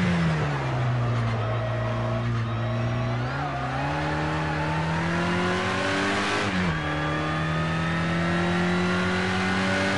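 A Porsche race car in Project Cars 2, its engine a loud sustained whine that climbs and dips with gear changes. Other cars can be heard faintly beneath it.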